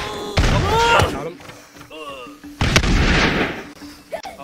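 Gunfire from the battle game Totally Accurate Battle Simulator, with several loud bursts and thuds spread across a few seconds among other game effects and excited talk.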